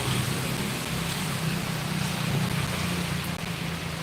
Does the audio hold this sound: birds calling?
no